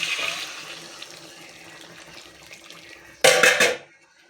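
Water pours from a tap into a pot of chicken and potato curry, a brief loud splashing rush arriving near the end after a stretch of quieter kitchen noise.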